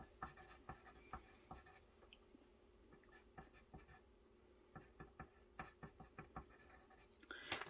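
A pen writing on paper at a craft table, with short scratchy strokes in an irregular rhythm, close and fairly quiet, heard alone.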